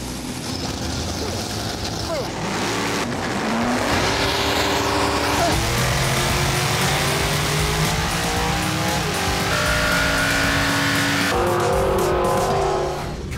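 Drag race cars, including a 2002 Ford Mustang, roar down the strip at a raceway event, loud continuous engine noise with rising revs and gear shifts, a commentator talking over it.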